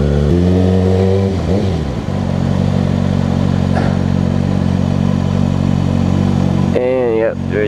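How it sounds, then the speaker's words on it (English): A motorcycle engine drones loud and close with a steady mid-pitched rumble while riding on the road, shifting pitch as it accelerates, with a short rising rev near the end. "I figured I'd ride to the store on the bike."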